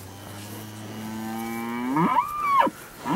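A single steer from a set of feeder cattle gives a long, rising moo that swells and breaks off near the end, loud and close with no talk over it.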